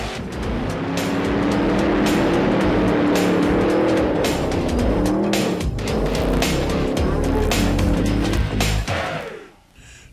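Pro Mod supercharged alcohol drag racing cars roar loudly and close at a drag strip, engines revving hard with shifting pitch and brief tire squeal, before fading near the end.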